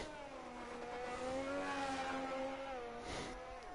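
A race car engine in an F1 racing video game (Project Cars) revs and winds up as the car spins, a sustained rising whine with shifting pitch and no talk over it.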